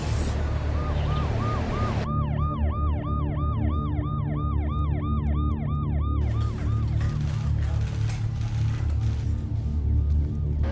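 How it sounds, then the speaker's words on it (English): An ambulance siren wails in fast, repeating up-and-down sweeps, loud and close, over road traffic noise outside a hospital in Delhi; the wail fades out as the traffic rumble continues. "ambulances have been coming every few minutes"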